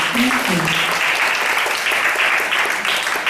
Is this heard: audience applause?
yes